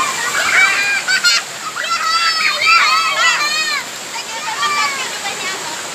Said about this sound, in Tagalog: Sa wakas, nakarating din kami sa ilog.